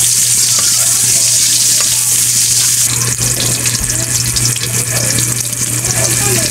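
Onion and garlic frying in a pan, giving a loud, continuous sizzle with occasional stirring clatter and a steady low hum behind it.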